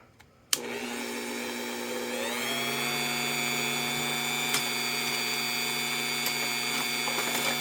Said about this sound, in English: It's going to get loud because I'm about to cut on the Dremel.